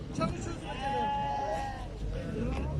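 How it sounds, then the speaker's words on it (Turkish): A lamb bleats in a long, wavering cry at a livestock market for sheep and goats, with people chatting nearby and short, fainter bleats around it. "Şu kuzucuğa bak ya."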